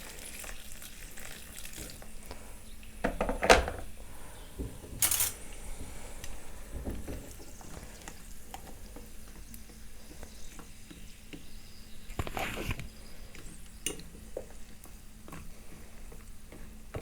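Powdered clays and chalk fizz and hiss after water is poured over them, a soft continuous crackling sizzle with occasional louder pops and clinks, close and without talk.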